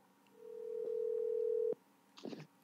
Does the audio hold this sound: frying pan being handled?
no